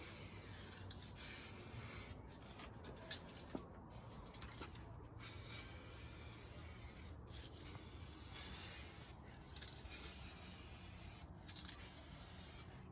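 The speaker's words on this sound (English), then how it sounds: "The clear coat doesn't have to be as thin as I was going with the spray paint." Clear coat sprayed from an aerosol can onto aftermarket vent covers for a 2000–06 GM vehicle: a steady close hiss in several long bursts, broken by short pauses, with no talking.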